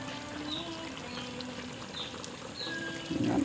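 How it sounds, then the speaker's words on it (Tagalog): A pot of coconut milk stew (Bicol express with string beans) simmers quietly with soft, steady bubbling, occasional small pops, and a faint hum in the background. "Yan, kumukulo na."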